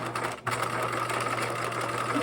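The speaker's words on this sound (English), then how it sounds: "I'm basically sewing it 1/8 of an inch, and again, I'm not going to backstitch on this one." A sewing machine runs a steady, continuous stitch along a backpack drawstring casing, sewn about an eighth of an inch from the edge without backstitching, close and even after a brief pause near the start.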